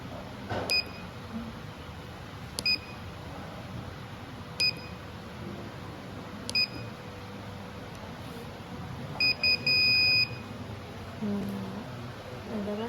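An electronic buzzer on an STM Nucleo game project gives short, high, tinny bleeps at game over: single beeps spaced a couple of seconds apart, then a quick cluster and a longer tone, over faint room hiss.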